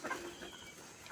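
Backyard chickens cluck softly in short, scattered bursts, faint and close by, with no talking over them.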